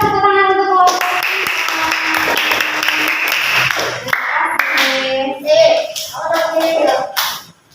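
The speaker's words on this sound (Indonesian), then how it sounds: "Kita kasih tepuk tangan untuk kelompok." A classroom of students claps for a presenting group, a brisk burst of hand clapping close by, overlaid with a rhythmic chant of young voices that trails off near the end.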